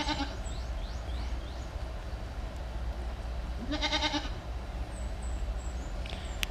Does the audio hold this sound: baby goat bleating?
yes